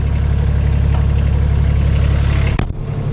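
A Kioti CS2530 compact tractor with a loader idles nearby, a steady loud diesel drone with one brief sharp click near the end.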